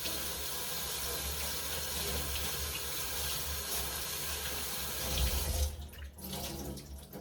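Tap water runs steadily into a bathroom sink while a face is rinsed, a close, continuous splash that swells briefly near the end and then cuts off.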